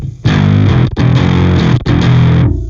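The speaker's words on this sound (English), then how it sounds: "I have another bass distortion plugin to show you" Heavily distorted metal bass guitar through a free distortion plugin plays three sustained, aggressive chords with brief gaps between them, loud and gritty with buzzing upper harmonics.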